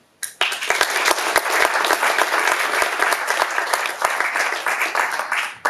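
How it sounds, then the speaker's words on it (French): At a conference, applause for the speakers breaks out suddenly after a brief quiet moment, with distinct individual claps standing out over a sustained clapping crowd. "je vous demande également d'applaudir nos intervenants"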